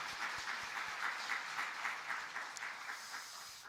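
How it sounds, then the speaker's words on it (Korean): Church congregation applauding during a Korean worship service, steady dense clapping from many hands filling the room at moderate level throughout. "하나님께 영광의 박수 올리겠습니다"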